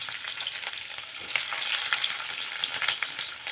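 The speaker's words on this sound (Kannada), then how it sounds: "ಎಣ್ಣೆ ಬಿಸಿಯಾಗಿದೆ. ಇದಕ್ಕೆ ಬೆಳ್ಳುಳ್ಳಿನ ಹಾಕ್ಕೊತಾ ಇದ್ದೀನಿ, ಮತ್ತು ಈರುಳ್ಳಿನ ಹಾಕ್ಕೊತಾ ಇದ್ದೀನಿ" Garlic and onion fry in hot oil in a kadai, a close, steady hiss and crackle with bright popping spatters and light stirring, no voices.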